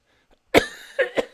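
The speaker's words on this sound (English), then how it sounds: "And the only reason I'm coughing, pardon me, is because I'm still sick." A sick person who vapes coughs three times in quick succession, the first cough loudest, the next two short and close together, after a brief near-silence.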